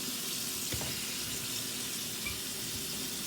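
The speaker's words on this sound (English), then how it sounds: "I'm actually going to put some water inside here, and then I'm going to just kind of rinse it" Water swirls and splashes as rice is rinsed in a container, a steady close wash of running, sloshing water with one brief knock partway through.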